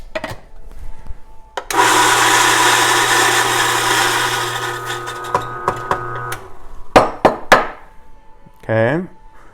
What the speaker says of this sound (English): So we're going to grind this coarse.